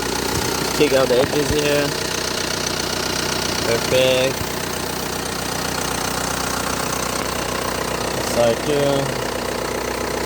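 A 2005 Hyundai Santa Fe diesel engine idling with the bonnet open, a steady mid-pitched running drone that continues throughout, with someone talking over it close by.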